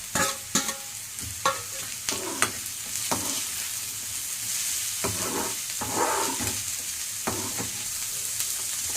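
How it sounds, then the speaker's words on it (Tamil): Sliced onions sauté in a pan for a beetroot stir-fry, with a steady soft sizzle broken by repeated scraping stirs and clinks of a spoon, close and moderately quiet with no talk. "வெங்காயம் வதங்கி பாருங்க"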